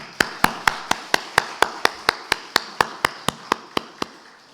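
A church congregation claps together in steady unison, about four crisp, evenly spaced claps a second, loud and close, keeping a regular beat until the rhythm stops.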